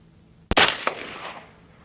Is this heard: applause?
no